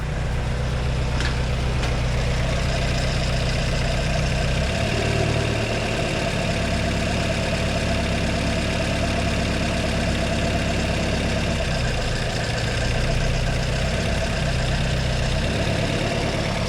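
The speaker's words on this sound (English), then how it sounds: "So we have a really bad injector plug here. You can hear it. If I let it go, that's a whole cylinder dropping out." A Honda Integra DC2 with a turbocharged B18C engine and a bad injector plug idles roughly nearby, a steady low rumble that sags and stumbles at moments as a cylinder drops out.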